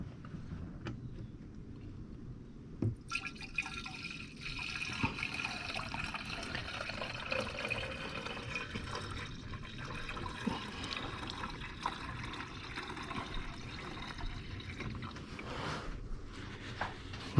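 Dex Cool coolant pouring slowly into the radiator of a 2013 Chevy Captiva, a steady liquid trickle and splash running continuously at close range with no talk.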